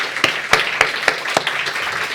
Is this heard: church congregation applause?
yes